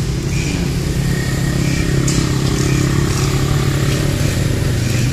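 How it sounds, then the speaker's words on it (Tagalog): A motorbike engine runs close and loud, a steady throaty rumble with a clattery edge that rises slightly in a short rev, continuous throughout with no talk. "Ayos to ang motorbike ha."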